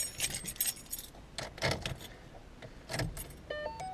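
A set of car keys jangles in several quick bursts, close and fairly loud, with short pauses between shakes and a faint electronic beeping toward the end.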